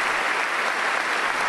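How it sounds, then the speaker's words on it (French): A church congregation at a Bible study gives strong applause for a church in Tunja, a thick, continuous roar of many hands clapping, steady and loud without a break. "Un fort applaudissement pour l'église de Tunja."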